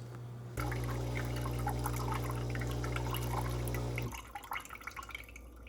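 A Ninja Luxe Café machine brewing cold brew on its 18-ounce setting with filtered water gives a steady, loud pump hum with liquid trickling for about three and a half seconds, then cuts off, leaving faint drips and small clatters.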